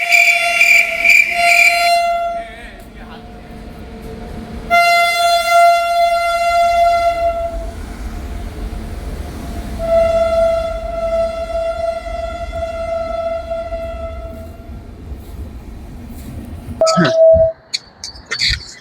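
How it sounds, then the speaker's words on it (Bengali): A train approaches and passes on an early-morning Kolkata line, sounding several long, loud horn blasts over a steady rolling rumble, then a brief clatter and a voice near the end. "ট্রেন আসছে বন্ধুরা। কোন ট্রেন আসছে দেখা যাচ্ছে না।"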